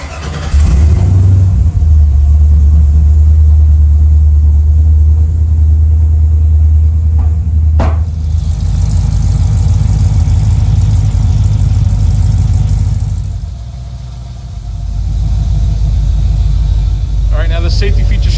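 A car engine fitted with a Digital Guard Dawg push-button start system rumbles deep and steady, with a sharp click midway before it settles into a low, even idle close by.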